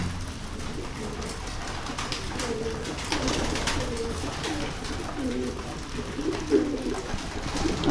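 Pigeons in a loft coo steadily, with repeated soft throaty calls from several birds overlapping against a dense background of fluttering and shuffling.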